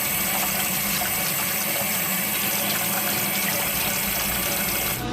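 Steady broadband rush of water running from a tap while negi (green onions) are washed, a continuous loud flow filling the whole stretch with no talk.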